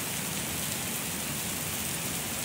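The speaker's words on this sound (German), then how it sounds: "Hat ja auch schon lange nicht mehr geregnet." Steady, dense rain falls in the video game This Land is My Land, an even hiss of drops with no breaks or thunder, close and continuous throughout.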